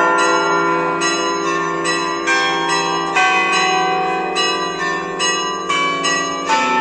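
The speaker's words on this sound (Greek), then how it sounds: "Καμπανοκρουσίες." Church bells peal repeatedly at night for the religious procession of the Virgin Phaneromeni in Nea Michaniona, Greece, with loud, rhythmic strikes ringing out steadily and overlapping in a sustained clangor.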